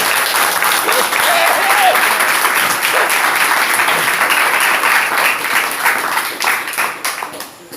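A church congregation applauds for the Lord in a loud, sustained wave of clapping and crowd noise that holds for several seconds before tapering off at the end.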